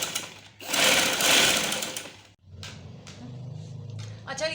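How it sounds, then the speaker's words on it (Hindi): A sewing machine runs in steady loud bursts while stitching a homemade machine cover, its rapid mechanical chatter stopping briefly and then resuming more quietly with a low hum underneath. "इसी तरह पूरे में सिलाई कर दूंगी।"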